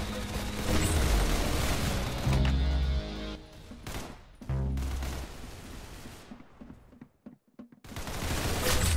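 Rapid gunfire from the shooter game Arsenal fills the opening seconds with dense automatic bursts and booming impacts, thins out into scattered shots and near silence, then erupts again loudly at the end.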